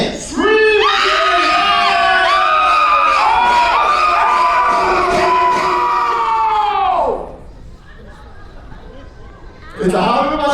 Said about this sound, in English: Count of three, ready to scream. Ready, and scream!